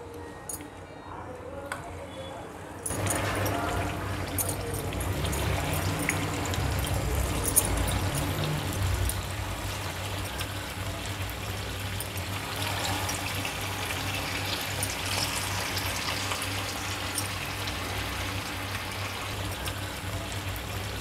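Bombil fish fritters dropped one by one into hot oil for deep frying set off a steady, close hissing sizzle that begins abruptly and continues throughout, with a voice speaking at times.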